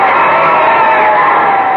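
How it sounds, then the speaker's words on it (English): A stadium crowd cheers the winners after a football game, a steady, loud wash of massed voices with yells and whoops blending together throughout. "Listen to this crowd cheering the winners."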